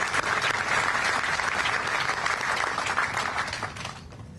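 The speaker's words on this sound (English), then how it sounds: "I'd ask everybody to join me in a round of applause for Kathleen Flynn" Sustained applause from a large crowd at a military change of command ceremony for the 25th Infantry Division, steady and dense throughout before tapering slightly at the end, with no talk over it.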